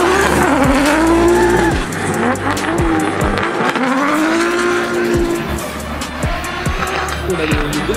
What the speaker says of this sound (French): Cette magnifique boîte de BMW qui danse sur la piste ici du Val de Vienne pour la finale championnat de France de drift